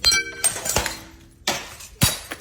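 Glass clinks and shatters in several sharp, close bursts with short quiet gaps between them, heard during a heated confrontation at a home.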